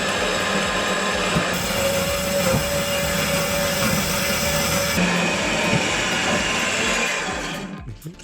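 An angle grinder cuts through an exhaust pipe with a steady, loud, dense whine and grinding roar that holds for several seconds before tapering off at the end.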